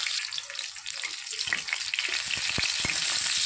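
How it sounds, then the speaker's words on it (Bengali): Pieces of pointed gourd sizzle in hot oil in a wok, a steady bright hiss with a few sharp clinks and scrapes near the end. "ভাজার জন্য আমি কড়াইতে কিছুটা তেল গরম হতে দিয়েছিলাম, তেলটা গরম হয়ে গেছে। এবারে পটলটা দিয়ে দিচ্ছি।"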